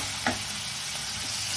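Marinated prawns sauté in a pan for a prawn malai curry, a soft steady sizzle with a single brief clink near the start and no talking.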